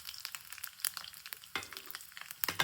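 Fenugreek, mustard seeds and dried chillies crackle and spit in hot oil for a Kerala mango pulissery, a steady close sizzle punctuated by sharp popping bursts and stirring clicks, with no voices.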